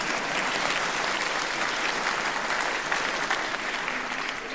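Sustained applause from a live audience at a comedy poetry show, many hands clapping in a thick, even roar that barely fades across the whole stretch.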